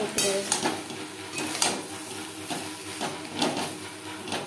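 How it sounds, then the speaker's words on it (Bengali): Papaya for a vegetarian curry sizzles in a pan as it is stirred with ground roasted spices, a steady fry hiss broken by repeated scraping strokes of a spoon against the pan. "পেঁপের সাথে ভাজা মশলা বেশ ভালো করে মিক্স করে দেবো।"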